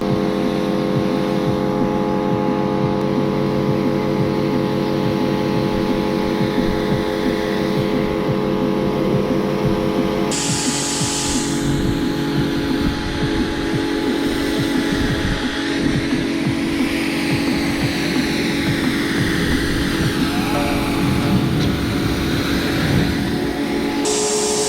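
A pressure washer sprays water to rinse snow foam off a dirty Volkswagen Polo, a loud, continuous hissing rush over a steady motor hum, with the spray shifting in tone partway through as the jet moves across the car.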